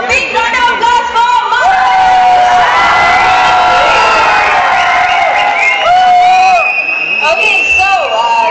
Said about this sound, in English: let's for a big round of applause for